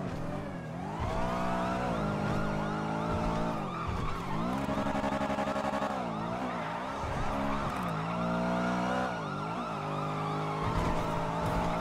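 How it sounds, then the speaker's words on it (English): Police car sirens in the game NoPixel 4 wail continuously, loud and layered, several tones sweeping up and down at once with no voices over them. "What do you want to hear in the game? Cop sirens?"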